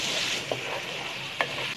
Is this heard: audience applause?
no